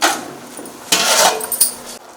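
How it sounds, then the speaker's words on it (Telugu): A metal lid is set onto a cooking pot of pulao being made with milk and curd, giving a few bright metallic clinks and rattles close by. "ఇప్పుడు మూత పెట్టి ఒకసారి హై ఫ్లేమ్లో పెడదాం"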